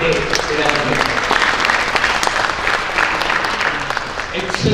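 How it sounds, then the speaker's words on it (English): Conference audience giving a round of applause at the end of a session, dense and sustained clapping from many hands filling the room at a steady, fairly loud level. "Let's hear a round of applause for what a great day it has"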